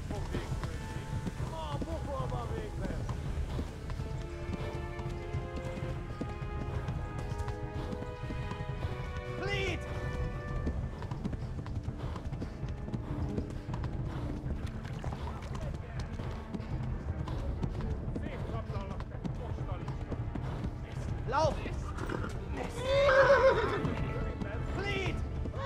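A horse in the medieval role-playing game Kingdom Come Deliverance gallops with a steady hoofbeat rhythm and whinnies loudly near the end, under someone talking in German over game music.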